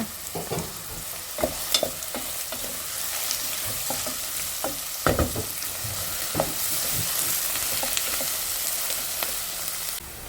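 Onions sauté in a pan with a continuous close sizzle, broken by frequent clicks and scrapes from stirring. The sizzle grows slightly brighter toward the end, and no one speaks.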